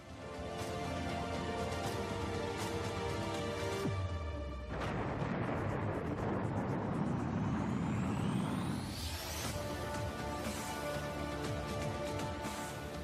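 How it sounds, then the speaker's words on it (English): A MiG-29K naval fighter jet roars past at a Navy Day event, a loud sustained engine rumble that swells, sweeps in pitch as it passes overhead, then fades into a lingering whine. "the Indian Navy has inducted the state-of-the-art MiG-29K"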